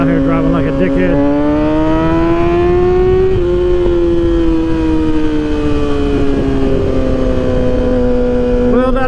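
A 2012 Kawasaki ZX6R motorcycle with an M4 exhaust and the baffle removed holds a loud, raspy engine note that swells slightly and then eases down, droning continuously and close throughout.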